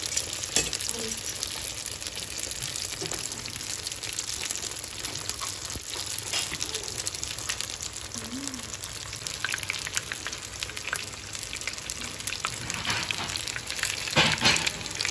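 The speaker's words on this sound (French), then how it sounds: "là, on fait frire nos petits nems" Small nems fry in hot oil with a steady, dense sizzle and fine crackling that carries on evenly throughout, close and fairly loud.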